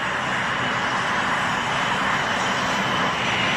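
A Fairchild Republic A-10 Thunderbolt jet's engines roar in a steady, loud, unbroken drone, close and sustained throughout with no voices.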